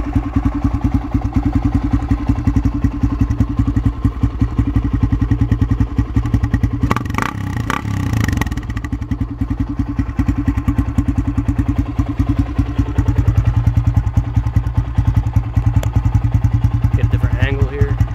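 A Honda XR250R enduro dirt bike on a stock exhaust idles steadily up close after a cold start, with a fast, lumpy exhaust pulse, a brief clattering thump midway, and the idle carrying on throughout.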